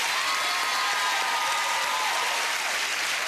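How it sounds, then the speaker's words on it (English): A television studio audience bursts into loud, sustained applause with some cheering, a thick steady wash of clapping that holds at full strength throughout. "With a big round of applause,"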